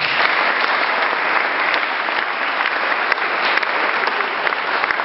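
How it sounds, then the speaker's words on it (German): Audience applause at a school award ceremony, dense and even clapping from many hands throughout, fairly loud and steady with no talk over it. "Einen Applaus."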